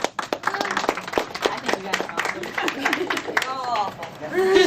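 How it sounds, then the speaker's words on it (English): Scattered applause from a small audience at a game presentation, uneven individual claps and a few sharp taps mixed with chatter and voices talking over it, close and fairly sparse. "No, actually applaud because people"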